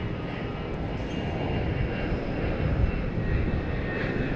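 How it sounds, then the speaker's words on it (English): Aircraft on a go-around at Boston Logan Airport, a sustained broadband engine roar at moderate distance, swelling slightly toward the end, with no talking. "Whoa, we have a go around."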